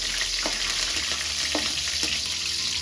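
Curry leaves crackling in hot oil over a simmering flame while cooking crab gravy, a steady dense sizzle with a few sharp pops, close and loud throughout.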